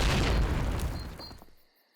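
A grenade blast in Call of Duty (2003): one loud, deep burst that rumbles and fades out over about a second and a half.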